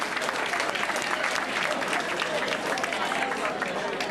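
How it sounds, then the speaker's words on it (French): Brief, moderately loud clapping from a crowd thanking volunteers who cooked meals on a hot day, steady and close-sounding throughout the short stretch, with faint voices mixed underneath. "On pourrait donner une bonne main d'applaudissements"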